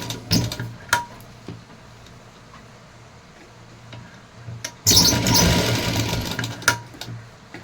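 A domestic sewing machine stitches a small Laddu Gopal dress in short bursts: brief whirring runs, then a longer, louder stretch of rapid mechanical stitching, with faint hum and clicks between.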